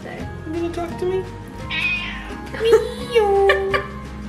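A cat meows several times, loud and close, with drawn-out and rising calls against a quiet room background.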